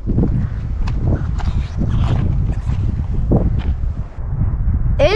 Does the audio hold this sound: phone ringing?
no